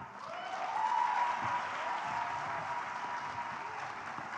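A conference audience applauds at a food systems changemakers event in the Sahel, with sustained, fairly distant clapping from a large crowd that swells and then holds steady.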